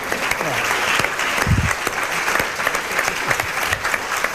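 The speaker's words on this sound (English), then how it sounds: "I think we should applaud these people." Audience applause fills a public education plenary on race and gender, a steady dense wash of clapping with a few low voices murmuring underneath.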